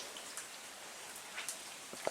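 Light rain falls outdoors around a garage during work on a Chevy Camaro, giving a soft, continuous patter with a few sharper drops landing nearby.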